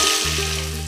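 Sliced onion hits hot oil with browned ginger and garlic for a Kerala-style pork fry, producing a brief, loud, continuous sizzle with a low steady hum underneath.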